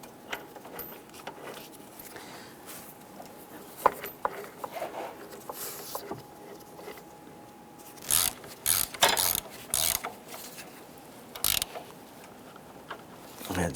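A ratchet clicking as it tightens a bolt on the engine torque strut mount of a 2008-2013 Nissan Rogue, quick close metallic ticking runs in short bursts separated by pauses and light handling noises.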